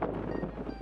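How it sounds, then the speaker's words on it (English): Strong wind gusts buffet the microphone beside a creek, a brief, low rumbling roar with no other sound. "It is freaking windy, man."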